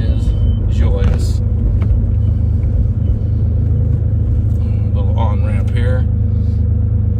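Inside a 1974 Porsche 911 Carrera on the road, the engine gives a loud, steady, deep rumble throughout while someone talks over it.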